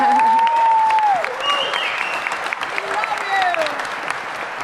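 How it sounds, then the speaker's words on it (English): Loud, sustained applause from a crowd filling a DEF CON conference hall, with a voice and some whistles rising over the clapping. "so you guys all are clapping"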